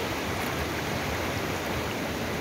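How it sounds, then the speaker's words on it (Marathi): Large sea waves crash in an unbroken roar of moving water, a constant, even wash of noise with no pauses. "खूप मोठी लाट इथे तुम्हाला दिसते आणि पाण्याचा सतत आवाज येतोय"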